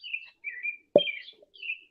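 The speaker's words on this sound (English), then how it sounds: "you hear the birds over there tweeting and everything." Birds tweeting outdoors, several short high chirps and trills coming in separate bursts, fairly close and clear, with a single sharp knock midway.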